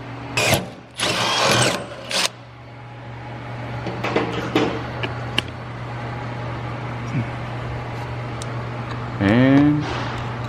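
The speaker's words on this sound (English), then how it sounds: "So we'll go ahead and get these drilled out real quick" A power drill bores holes into metal belly pans in a shop. There are loud, close bursts of drilling, a short one and then a longer one about a second long, followed by scattered clanks and tool noise, and a voice briefly near the end.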